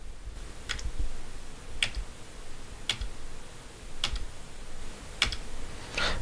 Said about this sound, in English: on my keyboard I'm going to hit the down arrow key